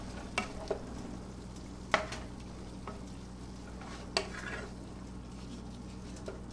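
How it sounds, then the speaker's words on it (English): Meat sauce being stirred in a pan, a few scattered scrapes and clinks of the utensil against the pan over a low steady simmer, fairly quiet and close. "So I'm going to stir that up now."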